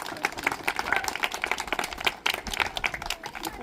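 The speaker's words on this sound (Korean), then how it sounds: "우리 박수로" Church congregation clapping during a Sunday baptism service, a steady patter of many hands at moderate loudness, fairly close and continuous with no voices over it.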